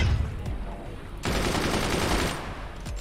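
Gunners fire in a fort-building video game, with a few sharp gunshot cracks early on, then a dense rapid burst of automatic fire for about a second, followed by scattered single shots.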